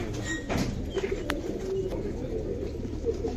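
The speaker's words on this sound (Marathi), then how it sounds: "इथे बघा कबूतर आहेत नुसते." Pigeons coo near the Salangpur temple in Gujarat: soft, repeated throaty calls over a steady outdoor background, fairly close and moderately loud throughout.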